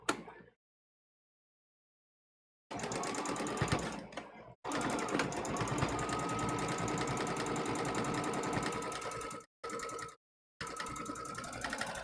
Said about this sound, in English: Now I need to go back over with a straight stitch for extra security.